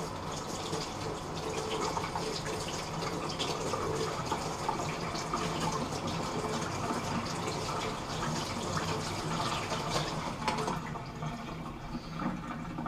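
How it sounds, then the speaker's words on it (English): Tap water runs steadily over aquarium filter media from a Fluval 206 canister filter being rinsed of plant particles, a continuous close splashing gush filling the whole span with no talking. "I'm just going to rinse some of the plant particles off with the tap."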